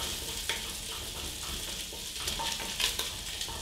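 Bacon frying in a pot as its fat renders, a steady close crackling sizzle with small pops throughout and no talk.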